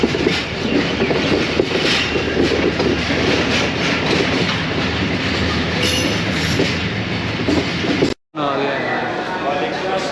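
The Subak Raftar Express runs on the rails between Lahore and Gujar Khan, a loud, steady rumble of wheels with rhythmic clickety-clack and a brief cutout near the end, heard from aboard the train.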